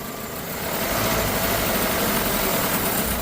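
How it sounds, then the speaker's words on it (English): A car engine is held at raised RPM during a catalytic converter vacuum test. It climbs slightly in the first half second, then holds a loud, steady, rough hum, close by, with no talk over it. "So I'm gonna raise the RPM again."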